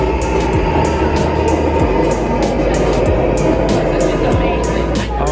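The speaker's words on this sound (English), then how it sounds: "Take this train back uptown." A New York City subway train rumbles loudly and continuously, with rhythmic clickety-clack of the wheels over rail joints and occasional wheel squeal, heard from close by for the whole stretch.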